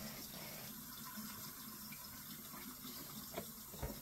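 Tap water runs steadily into a kitchen sink to make dish water, a continuous close, even rush and splash with a couple of small knocks near the end and no voices.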